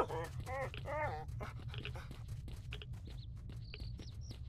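A dog pants in quick, breathy bursts in the video game S.T.A.L.K.E.R., close and fairly quiet over a low ambient hum, with short high game chirps near the end.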